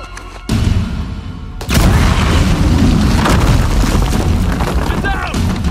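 A loud explosion booms in the action game Uncharted 4, following a short lull, then fades into a sustained rumble of debris and gunfire with voices shouting over it.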